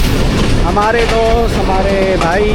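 Millat Express (18 Down) passenger train approaching a railway station, a steady loud rumble of rolling rail noise throughout with someone speaking over it.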